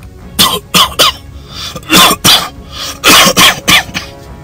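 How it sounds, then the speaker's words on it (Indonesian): A man coughs repeatedly in harsh, rapid bursts, close and loud, with brief pauses between fits. "Disusul suara batuknya."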